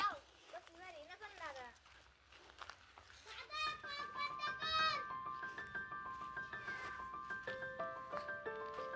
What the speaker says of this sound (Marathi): हे आली मांजर आपली